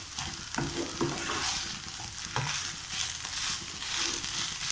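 Broken samba wheat mixture with coriander being stirred in a pan for a crisp cutlet, with steady scraping and a soft continuous sizzle for several seconds, close and moderately loud, no voices.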